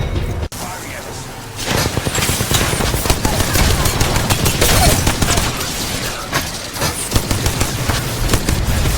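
Dense, loud automatic weapon fire in Apex Legends rattles almost nonstop, with bursts and single shots piling over each other and voices mixed into the din.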